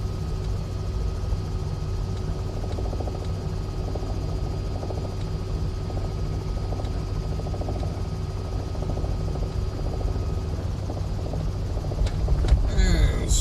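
A Robinson R66 helicopter flies low in a left-hand turn over a runway in the MSFS2024 flight simulator, its steady engine and rotor drone filling the whole stretch with a faint tonal hum.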